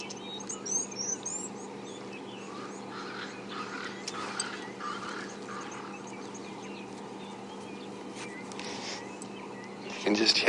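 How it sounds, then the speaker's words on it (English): Morning bush birdsong with crested francolins and Cape turtle doves calling at dawn in an African safari reserve, a steady layered chorus of distant calls and chirps over a low constant hum, with faint talk in places. "You can just hear the rest of the bush waking up. Crested francolins, Cape turtle doves."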